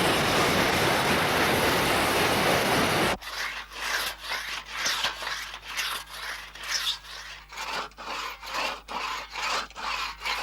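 Red gum trees on the banks of the Murray River are cut down, heard as a regular back-and-forth rhythm of saw strokes through wood that follows a few seconds of loud rushing noise.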